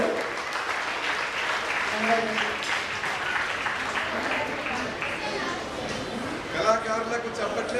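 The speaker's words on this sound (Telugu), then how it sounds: "చప్పట్లు." Audience applause at a Kuchipudi junior dance competition, a steady wash of clapping from a crowd that carries through the whole stretch, with a brief swell near the end.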